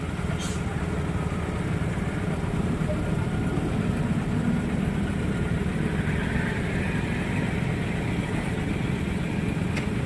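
A continuous low rumble of a train rolling past a village level crossing at a steady pace, heard from some distance.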